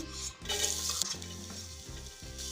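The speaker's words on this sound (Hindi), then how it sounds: "पैन में मैंने ऑयल गर्म कर लिया है। अब इसमें लहसुन डाल देंगे," Chopped garlic goes into hot oil in a pan, giving a soft, steady sizzle and hiss with a low background hum throughout, faint and fairly distant.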